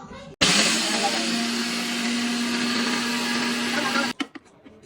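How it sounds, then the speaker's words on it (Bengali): An electric blender grinding soaked rice for chitoi pitha, starting abruptly, whirring loud and steady for about four seconds, then cutting off with a few rattling clunks. "এখন এই যে ব্লেন্ডার করা"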